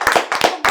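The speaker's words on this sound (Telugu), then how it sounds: "క్లాప్స్ కొట్టండి రా." A few people, including children, clap hands in three quick bursts, close and sharp, during a studio chat show with no talking.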